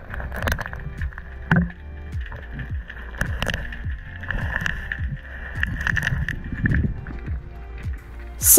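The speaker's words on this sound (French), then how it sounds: "souvent sous l'eau on entend un bruit très fort alors que le bateau est assez loin" A boat motor droning underwater, heard while spearfishing, steady and far off, with rhythmic gurgling and thumping pulses in the water.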